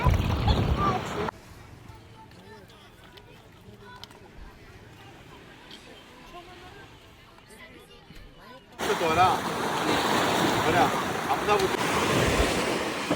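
Wind gusts buffet the microphone on a beach in Crete, loud at the start and again steadily toward the end, with a calmer stretch of faint surf and distant voices in between.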